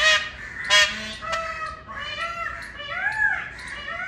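Loud, nasal peacock calls in a series of honking wails, some rising and falling, close by, with no talking.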